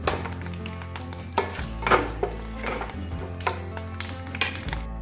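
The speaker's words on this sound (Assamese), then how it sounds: "তাৰপিছত এতিয়া মই বিলাহীখিনি দিম।" Tomatoes go into a hot pan with whole cumin over a high gas flame while cooking paneer; a steady sizzle runs throughout, with repeated clatter and scraping of a spoon stirring against the pan.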